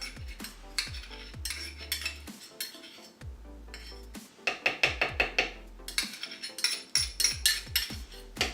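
A spatula knocks and scrapes against a blender jar in uneven bursts, sharp clinks and dull taps repeating close by with no talking.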